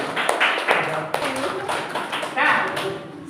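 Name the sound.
audience clapping for a group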